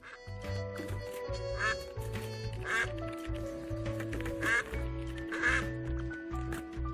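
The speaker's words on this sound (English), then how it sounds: "The game is fully voiced, and of course it has a dedicated quack button." Cartoonish duck quacks come from the Duck Detective video game and repeat in quick bursts over a bouncy musical background. The quacks are loud and close, and there is no talking.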